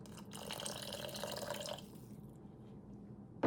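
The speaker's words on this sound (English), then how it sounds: "I'm going to add some more water" Water pours steadily into a pot for under two seconds, splashing and gurgling, then the sound fades to a quiet simmer.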